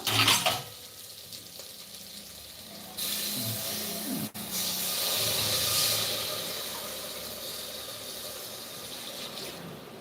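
Ground fenugreek leaf paste mixed with water is poured into a hot pan, setting off a loud hissing sizzle that surges partway through and then continues steadily, close and without talk.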